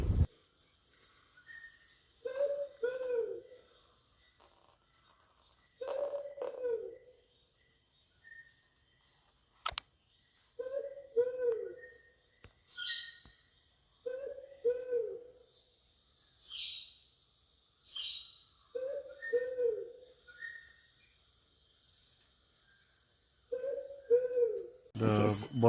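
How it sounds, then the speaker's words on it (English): Recorded call of the Borneo ground cuckoo played on a loop in a rainforest: low, hooting double notes repeating every few seconds, with insects buzzing, faint bird calls and occasional clicks around it. "these noises here is a recording of the cuckoo"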